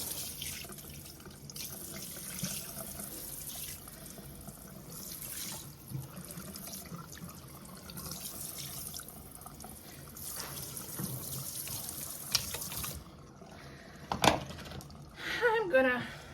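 A tap runs steadily while a bathroom is rinsed during cleaning, a soft continuous hiss of flowing water with brief splashes and clatters near the end.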